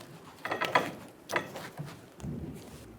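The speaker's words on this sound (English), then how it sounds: "Install the jack under the control arm." A jack is positioned and cranked under the rear control arm of a 2000-2007 Ford Focus during a coil spring replacement, making a few close metallic ratcheting clicks and clunks in short bursts, no talk.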